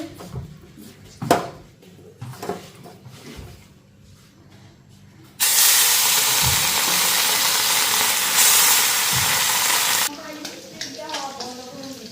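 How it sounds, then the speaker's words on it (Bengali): Fish marinated in salt and turmeric drops into hot oil in a kadai and sizzles in a loud, dense burst lasting about five seconds, with quieter kitchen clatter and a voice before and after. "লবণ হলুদ মাখা মাছটা না আগে হালকা ভাজা নি"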